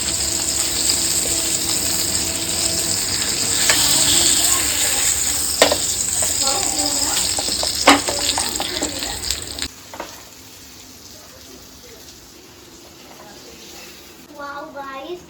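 Masala-coated pomfret fish fry in a hot pan with a loud, steady sizzle and scrapes of stirring. The frying drops away abruptly at about ten seconds, leaving the room much quieter, with a few faint clinks near the end.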